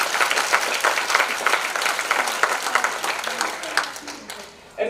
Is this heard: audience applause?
yes